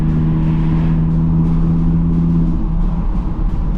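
A loud Audi R8 engine drones steadily at night from inside the car, its low tone holding then shifting as the revs change, with continuous road and exhaust roar throughout.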